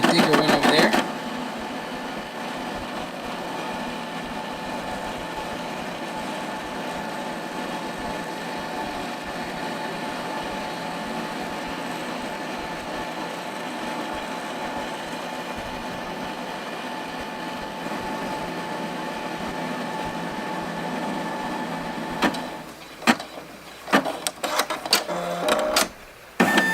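A Brother SE625 embroidery machine stitches a patch design in a long, steady, rapid mechanical whir with rhythmic needle clatter, close and continuous, ending in a few irregular clicks and knocks as the stitching finishes.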